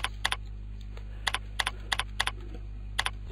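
Computer keyboard keys are tapped in short irregular bursts, a few quick clicks at a time with pauses between, close and clear over a low steady hum.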